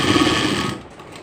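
Sewing machine stitching a thin seam along a folded saree border, a fast close mechanical whir that cuts off partway through.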